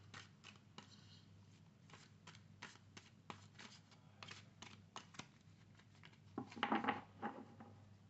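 Tarot cards are shuffled in a quiet room as a rapid series of soft, crisp riffles and taps. The sound is close and faint, with a brief rustling flurry near the end.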